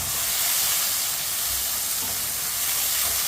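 Ingredients for matar pulao cook in a pot with a loud, dense, continuous sizzling hiss that stays constant from start to finish.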